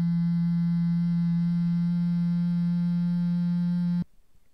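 A loud, steady electronic ringing tone from the horror game The Crooked Man drones unbroken at one pitch for about four seconds, then cuts off abruptly into near silence.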